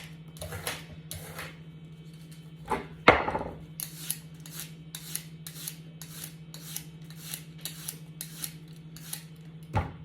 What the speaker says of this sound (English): just rotate them and you'll peel the tail.